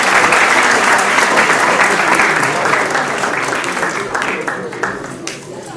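Loud, sustained applause from an awards-night audience, dense clapping that holds steady for several seconds before thinning slightly toward the end.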